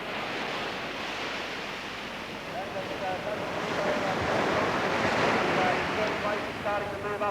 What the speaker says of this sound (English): the experts said the waves were really not big enough